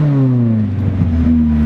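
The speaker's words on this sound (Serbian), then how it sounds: "Zatim zvuk automobila" A car engine hums close by, its tone sliding slowly downward as the revs ease off, then holding steady at a lower pitch, loud and continuous.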